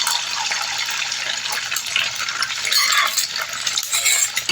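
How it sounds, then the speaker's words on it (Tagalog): Fried rice with hotdog being stirred in a pan for breakfast, with a steady scraping and sizzling texture of a utensil against the pan running throughout, close and moderately loud, with no talk. "Hinahalo dito sa sinangag rice. Yung hotdog."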